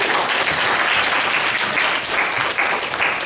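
Dense, sustained applause from a church youth service congregation fills the room loudly and evenly, with continuous clapping from many hands and no speech over it.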